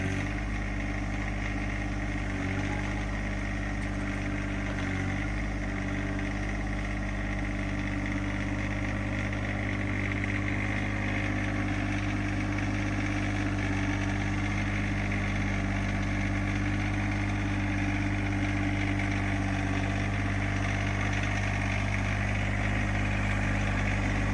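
A John Deere 1025R compact tractor's engine idles steadily and close by, a continuous low rumble with no talk over it, during snow work with the loader bucket.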